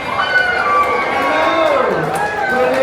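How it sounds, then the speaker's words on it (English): Guests aboard a Disney Cruise Line ship cheering together at sea, a continuous crowd of voices shouting and whooping, with children's calls mixed in and a voice speaking over the noise. "Give a wave and a cheer."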